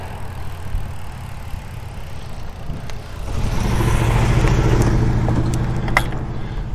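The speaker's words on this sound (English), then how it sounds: "I'm going to get run over by this truck." A truck approaches and drives past close by on a road, its low engine rumble building from a steady background hum into a louder, rattling pass with no talk over it.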